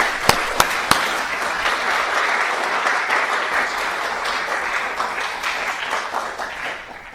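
An audience at an electrical engineering distinguished lecture applauds as the lecturer walks to the stage: a few sharp claps at first, then a sustained, dense wash of clapping that slowly thins toward the end, with no voices.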